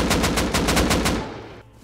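Rapid automatic gunfire in the survival video game Rust, about eight quick evenly spaced shots in a loud burst that then cuts off and fades.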